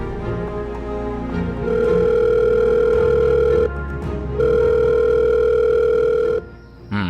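An outgoing phone call rings back with two long steady ringing tones separated by a short pause, loud and close, with no voices.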